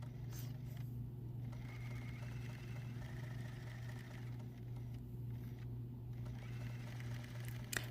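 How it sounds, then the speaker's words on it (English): A sewing machine stitching appliqué fabric on a mug rug hums steadily at low volume, its motor droning evenly throughout with faint mechanical whirring. "you could use any stitch in your sewing machine to sew down these pieces"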